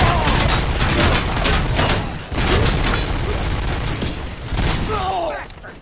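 Gunfire in Robocop: Rogue City, loud bursts of shots in quick clusters with booming impacts and mechanical clatter, dense and close, and a voice speaking briefly amid the shooting.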